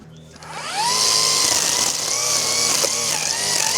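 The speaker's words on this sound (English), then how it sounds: "I ended up mowing the lawn last night, but I didn't trim it, so might as well get on that right now." A string trimmer cuts a lawn on a homestead, its small engine whining loud and close with a steady high buzz that rises in pitch as it revs up and holds, with no talking.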